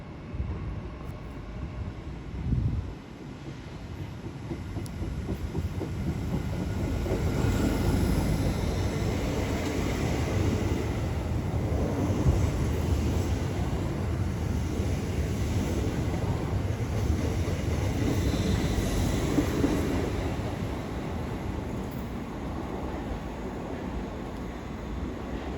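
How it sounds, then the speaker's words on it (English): Avanti West Coast Class 805 unit 805012 departing London Euston on the West Coast Main Line, a steady low rumble and hum that swells as the train pulls away, then eases slightly toward the end. "Now the plan is the 1202 Avanti West Coast service to Chester. 805012 takes it away."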